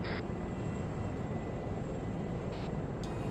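A military jet roars low overhead in a combat video game, a loud, sustained broadband rumble filling the whole moment with no speech.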